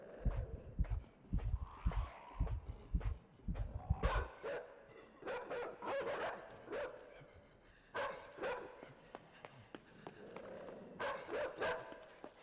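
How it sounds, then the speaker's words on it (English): Barking from a dog in the video game INSIDE, a burst of loud, close, rapid barks in the first four seconds, followed by scuffling movement and game sounds. "Doggy."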